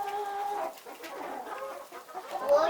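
Several chickens cluck in a farm shed, with overlapping calls at moderate volume and no talking.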